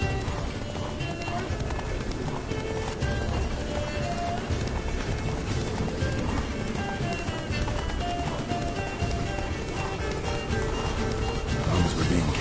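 Roach, Geralt's horse in The Witcher 3: Blood and Wine, gallops with a fast, steady clip-clop of hooves under voices talking over the ride.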